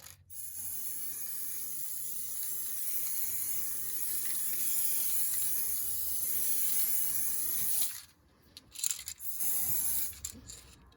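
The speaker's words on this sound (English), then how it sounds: "If you're spraying this in an enclosed space, I'd recommend that you use a face mask" An aerosol can sprays glue over polyfibre foliage for model railway scenery, a long loud continuous hiss that stops, then returns in short bursts before a final longer spray.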